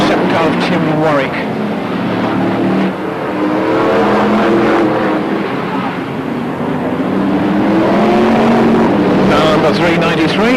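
Brisca F1 stock cars race around the Northampton Stadium oval, a sustained roar of engines rising and falling as cars pass, loud and steady throughout beneath a commentator talking.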